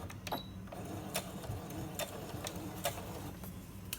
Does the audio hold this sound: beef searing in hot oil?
no